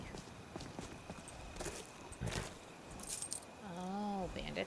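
In the video game Skyrim, horse hooves clop in a loose, uneven rhythm at moderate distance, mixed with jingling tack and faint ambient game sounds, ending in a brief horse whinny.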